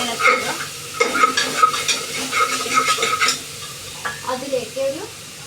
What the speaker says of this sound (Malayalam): എന്നിട്ട് നന്നായിട്ട് ഇളക്കുക.